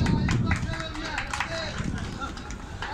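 An audience in a workplace safety talk claps for a person who gave the right answer, producing a steady, dense burst of applause mixed with voices.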